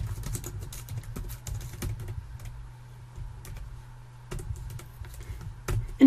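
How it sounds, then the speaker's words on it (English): Close computer keyboard typing as a bank name is entered, with quick irregular key clicks in bursts and a short pause midway, quiet and alone. "Type in the name of your bank."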